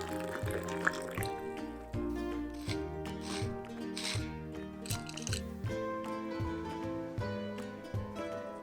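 Water pours from a public fountain into a container for several seconds. The splashing runs steadily, shifting in tone as the vessel fills, with occasional drips and clinks.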